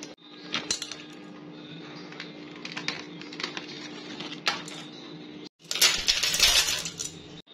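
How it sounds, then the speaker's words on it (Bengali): Dry pasta tipped into a cooking pot to boil, giving a run of light rattling clinks and scattered hard taps close by, with a denser clattering burst toward the end. "পাস্তা দিয়ে দিলাম সিদ্ধ করার জন্য"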